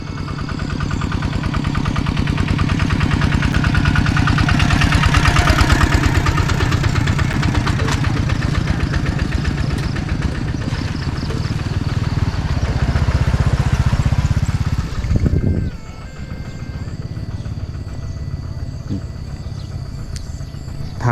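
A walking tractor's engine idles in a mountain village in Laos, a loud, close, steady chugging rumble that holds for about fifteen seconds, then briefly dips and settles back to a rougher, quieter idle.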